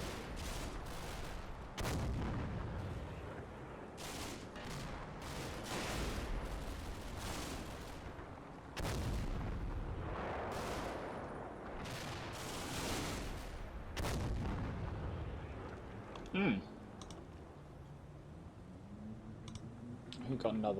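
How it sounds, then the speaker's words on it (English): Mortar rounds drop in and explode, with muffled booms and sharp crackling bursts arriving in irregular clusters. People talk over the explosions, and a higher whistling tone rises near the end. "definitely some mortars dropping in"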